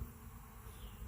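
Honey bees buzz around an opened hive while a frame of bees and brood is pulled from a colony, a steady, dense hum that fills the brief moment with no talking.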